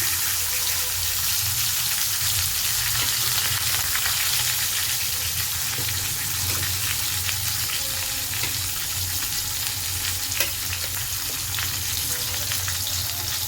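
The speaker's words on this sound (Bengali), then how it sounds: "এরপরে আমি মাছগুলো একে একে ছেড়ে দেবো এই যে ছেড়ে দিলাম" Koi fish (climbing perch) sizzling and crackling in hot oil, a steady, loud, close frying hiss that holds throughout with small pops and spatters and no talking.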